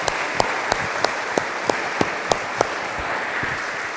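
A church congregation claps together in a steady rhythmic beat during a worship service, sharp unison claps landing about three times a second over a dense wash of scattered hand claps.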